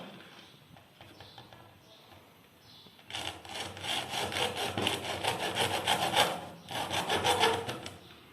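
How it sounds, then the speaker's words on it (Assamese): A blade sawing through the side of a plastic syringe, trimming it level for a homemade biogas setup: a quiet lead-in, then steady rasping back-and-forth strokes, close and fairly loud, with a short pause before a final burst. "সিৰিঞ্জৰ এইটো সাইড কাটি ল'ব লাগিব সমান কৰি"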